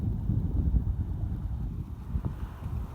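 Wind gusts roar by the River Tamar, a low, buffeting rumble against the microphone that swells and eases over a few seconds, with no voices.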